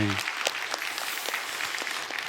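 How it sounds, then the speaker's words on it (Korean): Church congregation clapping in thanksgiving during a Sunday service, a steady mass of applause from many hands filling the room, with a few sharper individual claps standing out near the front. "우리 하나님께 감사의 박수 올려드리겠습니다"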